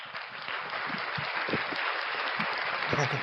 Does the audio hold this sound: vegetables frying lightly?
no